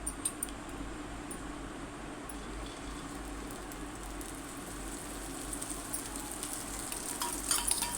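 Egg omelette with chilli powder, salt, turmeric, ginger and garlic frying in a pan, a soft steady sizzle with faint crackles, close and quiet, no talking.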